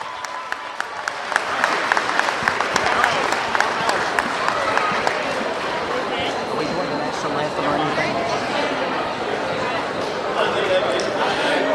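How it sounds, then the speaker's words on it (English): Sustained applause and cheering from a crowd in a gym at a high school varsity men's basketball game, honoring the seniors; dense clapping with crowd noise continuing steadily throughout. "let's put a big round of applause together for your seniors"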